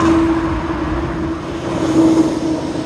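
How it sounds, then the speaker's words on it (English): A truck drives past outdoors, a steady loud rumbling roar with a sustained low hum that swells slightly toward the end. "Let this truck go by."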